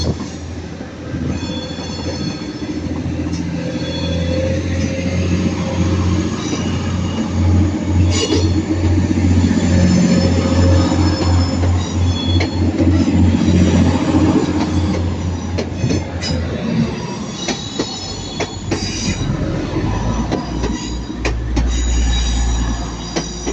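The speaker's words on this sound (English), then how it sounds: "39049 did a very big squeak here at the start." Avanti West Coast Class 390 Pendolino train departing a station platform, wheels squealing loudly and repeatedly over a steady rolling rumble and clickety-clack, close by for the whole stretch.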